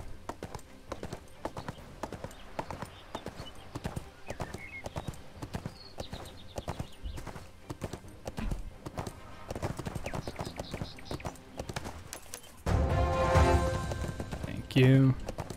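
Horse hooves clip-clop at a steady trot in the ArcheAge: Unchained video game, repeating rhythmically under a player's ongoing talk, with a louder burst of game sound near the end.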